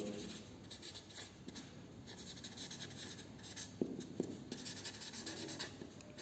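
Writing on a board during a lecture, a steady scratchy stroking that goes on through the clip, faint and close, with a couple of sharper knocks near the middle and no speech.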